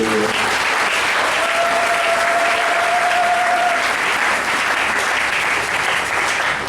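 Pentecostal church congregation applauding and cheering, a loud, dense wash of clapping with a brief high shout rising above it, continuous throughout.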